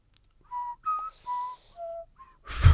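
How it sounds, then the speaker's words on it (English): A person whistles the Jeopardy melody, a short run of clear, close whistled notes with small gaps between them, ending in a brief burst of noise. "Sorry, I can't whistle."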